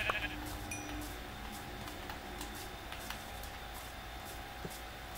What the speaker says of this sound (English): I just found some sheep too